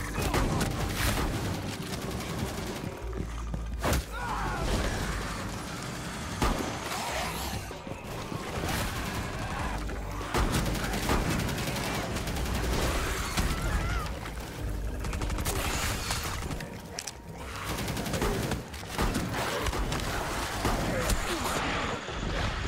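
Gunfire in the video game Operation Outbreak keeps up as repeated loud shots and bursts throughout a long combat stretch, mixed with impacts and game noise, and a voice talks over it.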